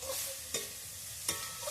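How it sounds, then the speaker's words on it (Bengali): Grated coconut being stirred into melted sugar in a pan, with a soft sizzle running throughout and two or three sharp scraping strokes of a spoon against the pan. "এবার নারকেলটা আমি দিয়ে দেবো, নাড়িয়ে নেব।"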